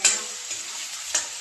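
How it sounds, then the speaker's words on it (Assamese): Potatoes and onion fry in a pan, a close steady hiss of sizzling oil with two soft scraping stirs. "পিঁয়াজটো ভাজিব লাগিছে, আলুটো ভাজি ল'ব লাগে"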